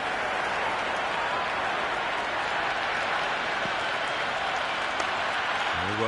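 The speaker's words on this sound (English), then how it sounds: "The crowd is electric right now." A cricket stadium crowd roars and applauds in a dense, constant wash of noise, loud and unbroken, with a brief voice surfacing near the end.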